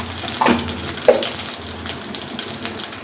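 Mustard seeds, two dried chillies and cumin dropped into hot oil for mor kuzhambu, a close steady sizzle with a couple of bright crackling bursts as they hit the pan.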